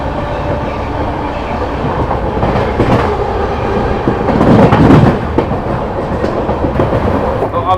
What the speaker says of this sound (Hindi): हापुड़ के बाद में तुरंत अपनी ट्रेन ने स्पीड पकड़नी शुरू कर दी है